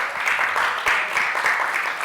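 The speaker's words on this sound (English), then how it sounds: "Round of applause for Kim" Brief, steady applause from an audience at a town hall meeting, a continuous patter of clapping for an accounting staff member after a completed audit.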